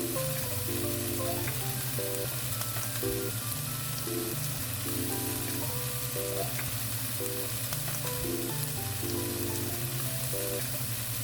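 Kimchi fries in oil with sausages in a pan, a steady close crackling sizzle like light rain that continues evenly throughout, with faint background music underneath and no speech.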